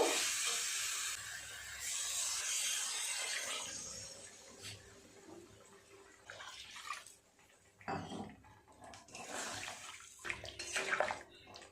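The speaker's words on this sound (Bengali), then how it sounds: "আলু দিয়ে আরও 2-3 মিনিট মশলার সাথে কষিয়ে নিয়েছি। জল দিয়ে দেব।" Water is poured into a pan of potatoes cooking with spices for a cauliflower dhoka curry, a steady close rush of pouring and sizzling that fades and returns in bursts, with no talking.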